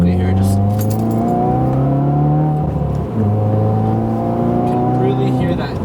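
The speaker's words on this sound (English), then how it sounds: "you can really hear that twin scroll turbo spooling up" A 2016 Subaru WRX with a twin-scroll turbo accelerating hard, engine note climbing steadily with a shift partway through and a turbo whir over the drone, heard loud from inside the cabin.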